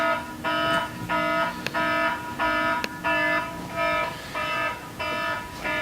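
An alarm clock beeps in evenly spaced bursts, about nine loud, harsh buzzing pulses with short gaps between them and no voices.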